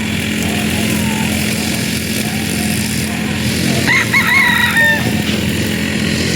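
A golden boy stag rooster at a game farm crows once in the middle of the stretch, a clear mid-loud call over steady background hum and faint farm noise, with no talking.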